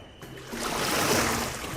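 A man imitates the call of a young crocodile, giving a short, steady droning tone of about a second over continuous rushing, splashing river water.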